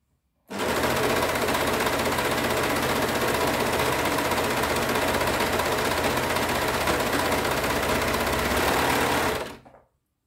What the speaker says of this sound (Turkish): Ön ağdan dikmeye başlıyoruz.